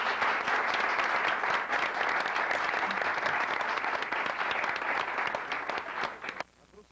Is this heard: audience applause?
yes